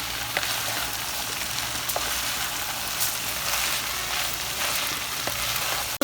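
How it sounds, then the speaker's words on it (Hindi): Chicken, cabbage and green onion frying in a pan, a steady loud sizzle with faint stirring scrapes throughout, close and uninterrupted. "अब हम इनको मिक्स करके वेजिटेबल्स को थोड़ी देर के लिए फ्राई करेंगे ताकि वेजीज अच्छे से फ्राई हो जाए चिकन के साथ"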